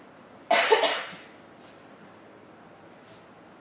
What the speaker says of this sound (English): My frequency of coughing is definitely going down.